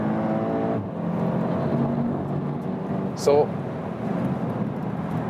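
A VW Golf GTI TCR engine hums at high revs on a racetrack in a steady, droning cabin tone with a brief shift blip, while someone talks over it throughout.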